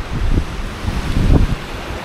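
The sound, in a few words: rough sea waves and wind at the beach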